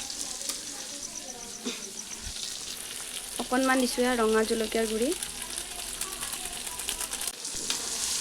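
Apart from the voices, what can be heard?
frying ginger garlic paste and spices for biryani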